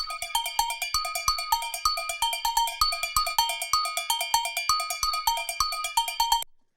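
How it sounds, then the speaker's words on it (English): A cowbell run through a modulation effect plays a rapid, steady rhythmic pattern of bright metallic hits that sound doubled and widened, loud and up front, then stops abruptly. "it sounds like there are kind of multiple cowbells hitting rather than one"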